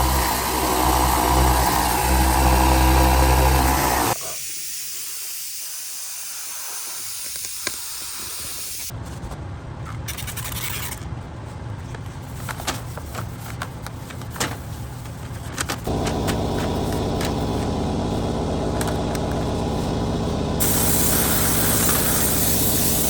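Spray gun laying epoxy primer onto the fender of a '79 Camaro Z28, a steady hissing spray that runs in long, even passes broken by short pauses, close and fairly loud with no talking.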